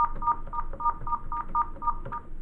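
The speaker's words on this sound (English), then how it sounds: "Start by dialing the first number yourself." Touch-tone dialing beeps on a Cisco SPA 500 desk phone, a quick even run of about ten short DTMF tones pressed one after another, fairly close and clear.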